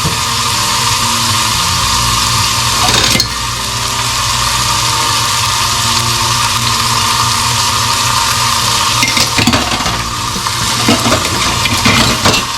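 Overnight-seasoned meat sears in a hot pan with a loud, continuous broadband sizzle, punctuated by a few metallic clinks of utensils against the pan.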